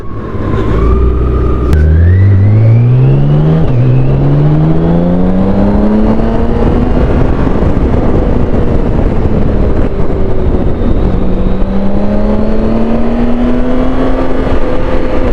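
A BMW K1600 GTL motorcycle engine under way on the road, loud and steady throughout, its drone climbing smoothly in pitch as the revs build, then easing and rising again.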